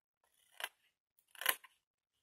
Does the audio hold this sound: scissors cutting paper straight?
yes